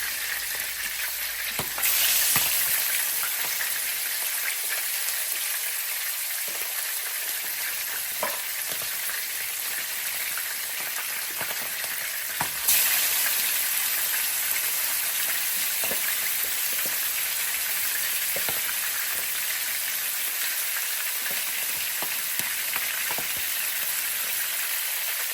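Leather jacket fish frying in hot, spattering oil with spice sauce: a loud, continuous sizzle and crackle that runs throughout, close by, with no voices.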